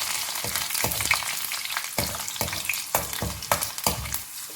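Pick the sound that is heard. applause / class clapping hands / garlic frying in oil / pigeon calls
garlic frying in oil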